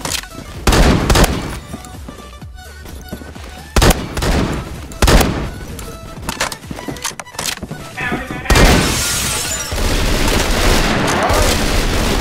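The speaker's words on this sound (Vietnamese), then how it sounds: "Spam súng lục nè con." Rapid pistol gunfire spammed in a Roblox Phantom Forces match, bursts of shots in quick succession with loud booming impacts and dense game noise, broken by brief pauses.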